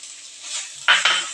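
Crushed green chili, ginger, garlic and shallots are added to onion and tomato frying in oil. A close, continuous sizzle is broken near the end by two sharp utensil clatters against the pan.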